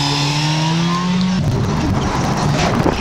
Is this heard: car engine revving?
yes